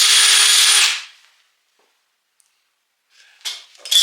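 A drill spinning a wire brush against aluminium to clean it before welding makes a loud, close whirring scrub for about a second, then stops; after a silence, brief scraping bursts follow near the end.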